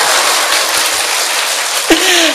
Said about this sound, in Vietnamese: Vỗ tay thì vỗ cho nó lớn đi để biết.